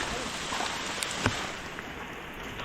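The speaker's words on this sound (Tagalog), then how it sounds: "Ay, anong ulan." Rain falls steadily at night outdoors during a bird hunting trip, a dense even hiss throughout with a few brief sharper taps, no voices.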